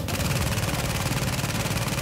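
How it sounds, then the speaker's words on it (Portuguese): Rapid gunfire from the video game The Division, rounds striking bulletproof glass, forms a steady dense rattle of shots that fills the whole moment at even loudness, close and continuous. "O tiro que não vara!"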